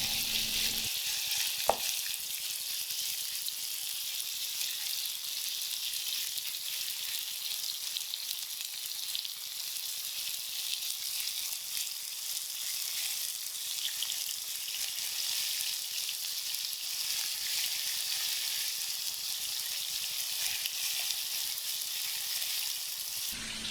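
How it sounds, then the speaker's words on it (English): Pieces of meat sizzle and fry in a hot pan for a Korean jjapaguri dish, a steady crackling hiss throughout with a brief clack of utensils early on. "Now put the pieces of meat on the pan and roast them."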